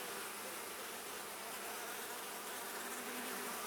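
Steady, dense honeybee buzzing at an open hive fills the air without a break, a constant drone of many bees close by.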